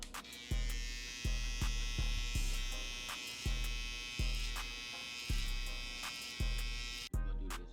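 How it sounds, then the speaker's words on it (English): Electric hair trimmers buzz steadily and close while cutting hair during a home haircut, with a series of soft regular clicks or taps over the constant drone. "We're gonna be starting off with our fabulous trimmers."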